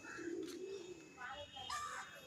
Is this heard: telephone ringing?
no